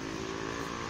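Steady droning hum of a 1000cc motorcycle engine idling nearby, a continuous low buzz at moderate-low level with no talk over it.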